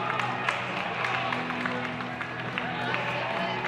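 Crowd cheering and applauding at an indoor 5k race at BU, a steady roar of noise under a commentator's voice as a runner chases the American record.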